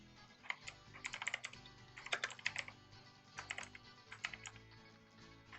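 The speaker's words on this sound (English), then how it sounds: "This keyboard is very clicky on the microphone." Typing on a clicky, backlit mechanical keyboard, with irregular bursts of sharp keystroke clicks and short pauses between them, picked up close by a microphone with no talking.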